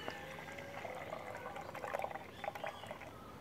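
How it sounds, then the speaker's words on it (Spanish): Liquid fertilizer for desert rose (adenium) plants is poured into a one-litre container, a faint, quiet trickle and splash with small gurgling bursts. "Vamos a echar aquí en el recipiente que agarra 1 litro."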